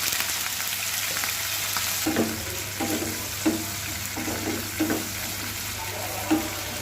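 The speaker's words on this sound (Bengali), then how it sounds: "এখন পেঁয়াজ আর রসুনটা ভেজে নেব" Onion and garlic fry in hot oil in a pan for a Bangladeshi shrimp and peanut bhorta, making a steady close sizzle broken by several rhythmic scraping strokes of a spatula.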